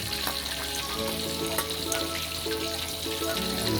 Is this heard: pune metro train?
no